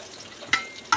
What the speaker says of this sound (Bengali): মাছটা ভাজা হয়ে গেছে, তুলে নেব এখন।